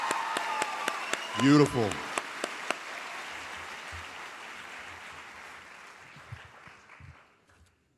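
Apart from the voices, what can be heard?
audience applause at a graduation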